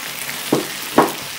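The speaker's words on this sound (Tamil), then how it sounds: "இது 1 நிமிஷம் நம்மளுக்கு நல்லா வதங்கட்டும்" Okra coated with masala sautés in a pan, heard as a faint hiss with two soft stirring scrapes, close and without talk.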